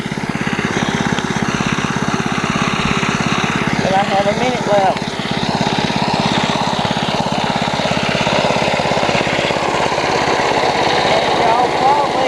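A lawnmower engine runs steadily and loudly throughout, with a continuous rough drone, while someone talks over it.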